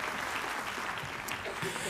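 A circus audience at Circus Mök 2024 gives a sustained round of clapping, dense and even throughout the moment with a hint of crowd murmur.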